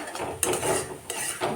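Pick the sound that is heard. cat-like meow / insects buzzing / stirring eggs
stirring eggs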